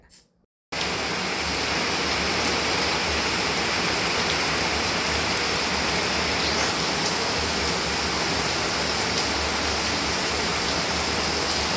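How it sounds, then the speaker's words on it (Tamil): Heavy rain pours down steadily in a Tamil village during the Aadi month. After a brief quiet moment it becomes a dense, continuous hiss that stays loud and close to the end. "நம்ம பங்காரம்மாவோட அருளால் எங்கள் ஊர் பக்கம் நல்ல மழை."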